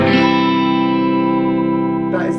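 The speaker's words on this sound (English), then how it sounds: "That is the neck and bridge pickup." Sustained electric guitar chord played through the neck and bridge pickups together, ringing out evenly for over two seconds with a warm, full tone and light effects, fading slightly near the end.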